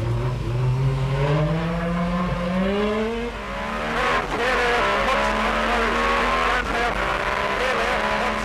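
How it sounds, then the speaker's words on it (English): A V6 rally car engine revs hard at high RPM, its pitch climbing and falling in loud, sustained sweeps as it accelerates close by, with a raspy tone and brief shifts. "That V6 sound."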